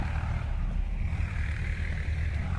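Low, steady engine rumble of a tractor running nearby, a continuous droning hum with slight wind buffeting, no talk.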